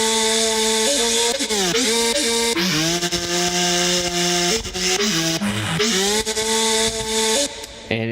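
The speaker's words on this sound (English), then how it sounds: "So the sample is a flute sample." Flute sample run through an amp saturator in a trap track: loud, continuous distorted melodic tones that step and glide between pitches, dense with gritty harmonics throughout.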